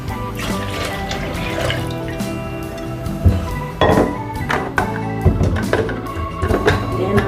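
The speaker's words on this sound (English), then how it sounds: "Then I add enough water." Water poured into a blender jar holding beans, a gurgling, splashing trickle with clinks and bumps of the container, growing busier toward the end, close and fairly loud with no talk.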